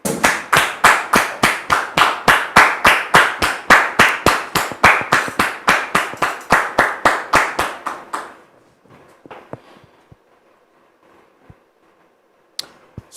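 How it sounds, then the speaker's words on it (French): A studio audience on a French TV talk show claps in loud, unison rhythmic beats to welcome a guest, Dame Patricia. The steady clapping stops after about eight seconds, leaving near silence with a few scattered taps. "Nous allons la recevoir ici maintenant, sous vos applaudissements."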